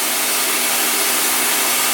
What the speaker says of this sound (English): I found my hair dryer works pretty good for this.